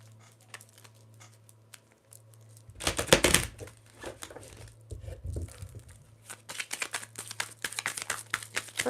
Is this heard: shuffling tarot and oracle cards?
yes